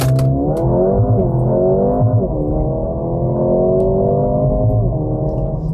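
A 2025 Mercedes-Benz GLA 35 AMG in Sport mode accelerates hard from 0 to 100 km/h. The engine note climbs steadily and drops briefly at each gear change, loud and close, with no talking.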